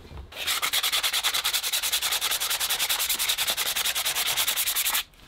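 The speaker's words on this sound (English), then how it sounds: "So let's give that its final sanding to finish" An oak door getting its final sanding, a steady close rasping rub with a fast even rhythm that runs for about five seconds, then stops abruptly.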